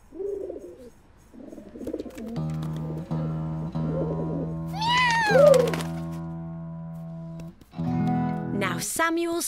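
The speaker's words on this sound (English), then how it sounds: "With a meow that is loud and strong." A cartoon cat meows loudly amid a busy music-and-voice mix, with a rising, wavering yowl in the middle over sustained instrumental notes and bursts of talk and singing around it.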